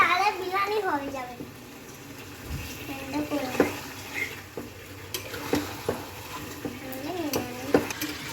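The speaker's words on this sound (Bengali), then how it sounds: "নাড়ছে।" Chicken biryani being stirred in a pot with a spoon, giving scraping, clinking strokes and a light sizzle, heard close under ongoing talk from a woman and a child.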